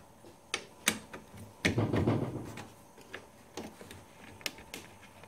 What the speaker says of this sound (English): So I'm going to undo these two bolts here